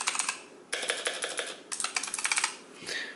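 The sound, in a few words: Razer Huntsman Elite gaming keyboard key clicks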